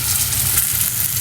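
Tomatoes and ginger garlic paste fry in hot oil for a Kerala-style prawn masala, a steady, close, bright sizzle that stays even throughout with no talking.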